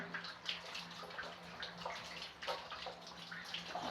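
Running water rinses a Tibetan Mastiff puppy during a bath, a steady soft splashing and streaming with faint scattered splashes throughout.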